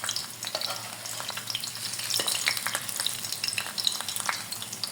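Cauliflower pieces frying in oil in a pan for broasted cauliflower, giving a steady close sizzle with scattered crackles and pops throughout, no talking.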